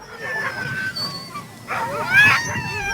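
Dog whimpering and yipping in short bursts with a rising whine, set among wartime accounts of dogs used to hunt rats in the trenches, with faint background noise.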